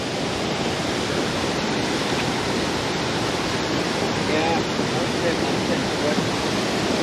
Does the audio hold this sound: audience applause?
no